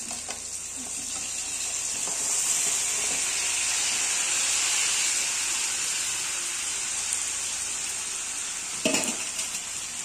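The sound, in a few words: chicken frying in spice masala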